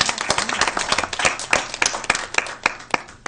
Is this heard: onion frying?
no